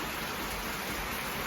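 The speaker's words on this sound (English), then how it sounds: "It's raining." Steady rain falls on a farm during sweet potato planting, an even close hiss of drops across the short stretch with no voices.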